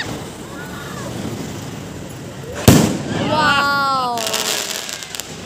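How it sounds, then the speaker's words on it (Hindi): Diwali firecrackers burst outdoors, a sharp loud bang around the middle followed by crackling and whistling, with a voice exclaiming over the noise and festive background chatter. "जोरदार से पटाखे फोड़े जा रहे हैं"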